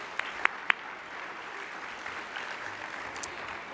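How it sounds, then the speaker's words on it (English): A reception audience gives brief, thin applause for VIP sponsors, starting with a few sharp isolated claps and then settling into a soft, steady patter heard from a distance in the room. "Please join me in a round of applause for our VIP sponsors."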